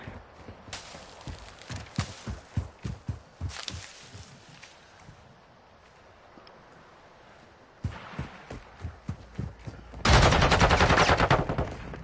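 Gunshots in a video game gunfight during a live stream: bursts of sharp shots and rapid automatic fire in clusters, quieter gaps between, ending in a loud sustained burst, with no talking.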